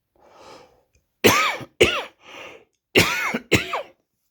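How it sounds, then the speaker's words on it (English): A person coughs several times in short harsh bursts, close to the listener, with quieter breathy throat sounds in between. "got a bit of a cough, mate"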